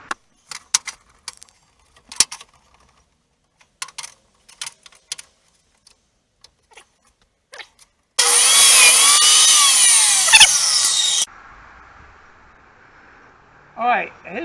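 Power tool cutting off a piece of material for a homemade tablet holder, running as a loud continuous whining buzz for about three seconds after a stretch of sparse clicks and handling taps, then stopping, with brief talk afterward.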